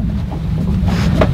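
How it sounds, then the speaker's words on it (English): Gusty, squally wind buffets a sailboat under way off Scotland near the Crinan Canal, a steady low roar with wind noise on the microphone and a brief stronger gust, no voices. "It's a bit squally out here and the wind has freshened up"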